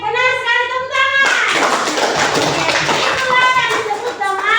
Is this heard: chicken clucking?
no